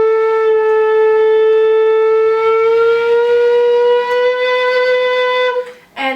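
A low whistle plays one long, steady, loud note that slowly slides upward as a finger lifts off a hole and breath pressure rises, with airy breath noise and a brief break at the end.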